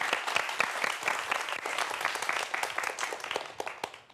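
A lecture audience applauds as a speaker on dinosaurs and mammal evolution is introduced. The clapping is dense and sustained from many hands, filling the room evenly before it thins slightly at the end.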